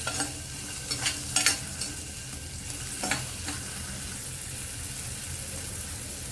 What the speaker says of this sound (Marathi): गाजर सुद्धा फ्राय करून घ्यायचं सगळ्या भाज्या तेलावरती अशा फ्राय करून घेतल्या की भाजीला टेस्ट छान येते